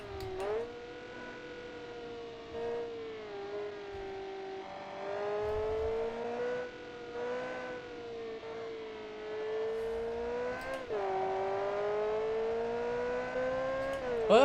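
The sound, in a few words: car engine revving and accelerating in BeamNG video game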